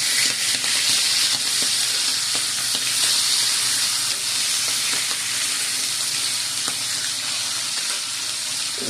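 Pork liempo grilling on a hot grill pan, its fat rendering out, gives a loud, steady, close sizzle and crackle that runs unbroken with no talking.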